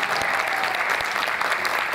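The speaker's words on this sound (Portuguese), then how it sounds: "Então eu vou pedir aquele carinhoso aplauso de vocês" Dense, steady applause from a large crowd at a Farroupilha encampment show, filling the whole stretch at even loudness, cheering a regional group.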